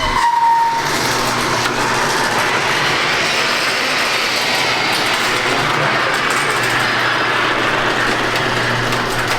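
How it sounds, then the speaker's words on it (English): A garage door opening with a loud, steady rumbling and grinding roar that runs for several seconds without a break, close by, with no talking. "this garage door goes up, it makes a heck of a lot"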